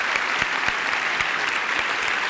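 A business talk audience applauds Sally Jewell, CEO of REI, a dense, steady clapping from a full room, loud and continuous for the whole short stretch with no voices over it.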